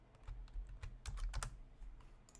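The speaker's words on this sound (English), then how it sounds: "type in the password" Keystrokes on a computer keyboard as a password is typed at a Linux command line, a quick irregular run of light clicks and taps, close and clear with no talking.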